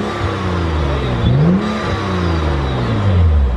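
A BMW 135i engine with an aftermarket BurgerTuning intake revs up and down close by, its intake note rising and falling in a throaty whir over a steady idle.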